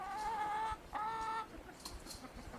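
Farmyard hens clucking close by, a pair of loud, drawn-out cackling calls followed by softer, scattered clucks and faint chatter from the flock.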